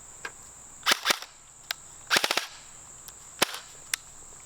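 A G&G Combat Machine airsoft gun is test fired nearby, giving sharp snapping shots: single cracks, a quick double, a short rapid burst in the middle, then a few more scattered pops.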